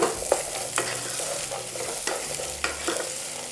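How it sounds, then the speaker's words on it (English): Onions and garlic sweat gently in a pan, giving a soft steady sizzle with occasional scrapes and stirring clicks, heard up close with no talking. "you don't want to caramelize your onions or burn your garlic. Just sweat it out."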